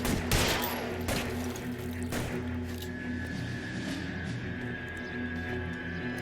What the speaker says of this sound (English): That was a clean headshot.